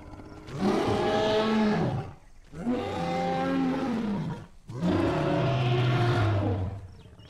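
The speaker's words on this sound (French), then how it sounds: "le cri de ces trois-là, une sorte de son d'éléphant modifié, est juste trop badass" Three long, loud dinosaur roars made from a modified elephant call in the 2003 documentary Planet of Dinosaurs, each a deep, bellowing cry lasting about two seconds, separated by short pauses, with no talking.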